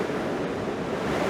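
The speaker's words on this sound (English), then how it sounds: "enjoying the sounds of the coast" Sea waves at the coast beside a seawall, heard as a steady, dense roar of surf and wind noise with no distinct breaks or voices.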